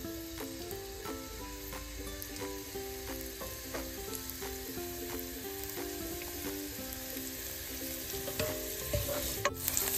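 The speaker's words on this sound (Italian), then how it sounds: "Mettiamo in una padella l'olio extravergine di oliva, aggiungiamo l'aglio." Garlic and parsley frying in extra virgin olive oil in a pan, a steady close sizzle with bright crackle running throughout, occasional stirring clatter, and a louder burst near the end.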